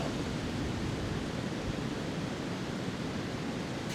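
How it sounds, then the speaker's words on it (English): Strong wind blowing outdoors in mid November as a weather front arrives, a loud continuous broadband roar with no letup and no talk. "right now we got to deal with wind"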